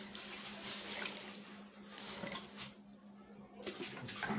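A dyed dress is washed in water, producing faint, continuous splashing and running-water sounds with small irregular swells, quiet and alone.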